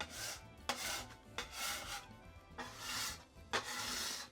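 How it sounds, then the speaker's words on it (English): A bench scraper drags across homemade pasta dough in four or five short, gritty scraping strokes separated by brief pauses, close and moderately loud with no talking. "So I am going to just use my bench scraper"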